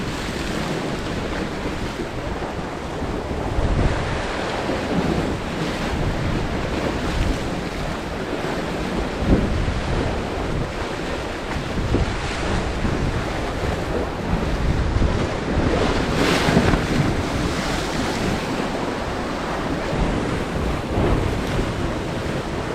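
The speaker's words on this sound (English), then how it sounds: "I got a picture with the waves crashing." Ocean waves crash along a Bermuda shore in a steady, loud wash of surf, with heavy wind buffeting the microphone throughout and a stronger surge near the middle.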